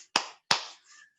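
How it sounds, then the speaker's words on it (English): Two sharp hand claps ring out close and clear, spaced evenly apart, then a faint softer rustle follows. "Nothing other than just clapping our hands."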